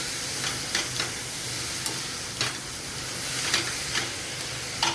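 Grated carrots for a traditional carrot halwa being sautéed, a continuous hissing sizzle with periodic scraping strokes of the spatula against the pan, close and steady, with no voices.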